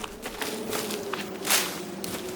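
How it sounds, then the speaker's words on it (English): Footsteps crunching through forest underbrush in the survival game The Forest, a run of soft, fairly close steps over a low ambient background. "Your footsteps crunching through the underbrush."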